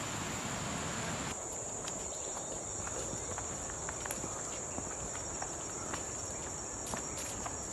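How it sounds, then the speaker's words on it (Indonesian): Steady high cricket chirring runs throughout a quiet forest scene in the Meratus area, with faint scattered ticks and rustles beneath. "Ditemani suara jangkrik burung dan berbagai hewan lainnya"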